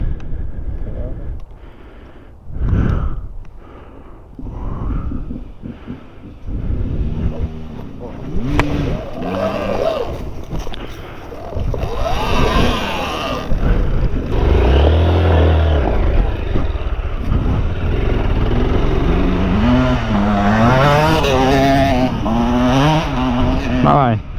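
A Honda XR 190L motorcycle engine revs up and down, rising and falling in pitch amid outdoor ride noise, with people talking over it and a brief louder burst near the middle.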